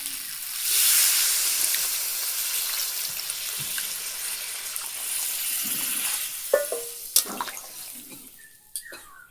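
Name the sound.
water added to frying masala, sizzling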